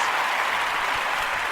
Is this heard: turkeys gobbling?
no